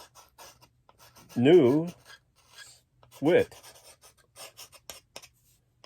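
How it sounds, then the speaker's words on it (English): A pen scratching and tapping on a surface in short, irregular strokes, faint and close, with a speaking voice breaking in twice. "I'm going to just write on here"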